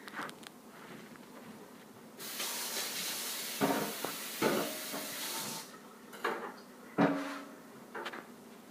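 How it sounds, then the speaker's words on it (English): Tap water runs over vegetables being rinsed at a kitchen sink, a soft hissing spray that starts after a quiet moment, with a few light knocks and clatters of handling over it. "So I'm just going to go rinse this off real quick."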